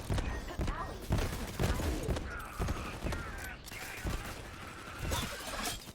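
Rapid gunfire from a Borderlands 3 firefight, featuring an Echo pistol, cracks in quick repeated bursts of sharp, punchy shots mixed with mechanical clanks, at a fairly low level, with a player's voice heard in between.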